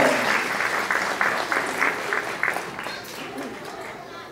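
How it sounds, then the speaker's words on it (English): An elementary school audience gives applause for a second-grade piano duet, a steady, fairly loud round of clapping with some voices in the background that fades slightly toward the end. "Let's give them a round of applause"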